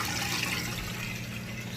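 A Maytag HE washer pumps its water out after the wash and rinse cycle, a steady, loud rushing and gurgling drain flow with a low pump hum underneath, continuous and even throughout.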